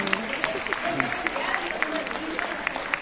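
An audience at a youth forum in Johor Bahru claps steadily for the state of Johor, a dense patter of hands under a speaker's amplified voice.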